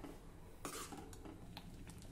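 A spoon scrapes and clinks against a pot while thick besan pithla cooks over medium-high heat, with a few sharp metallic knocks and soft stirring scrapes, quiet and close, no talking.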